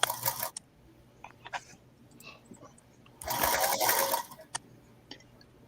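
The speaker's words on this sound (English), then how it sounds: "So Rita, how's that featherweight sewing?" A Featherweight sewing machine stitches in brief bursts: a short whir at the start, a few isolated clicks, then a louder, steadier run of about a second near the end.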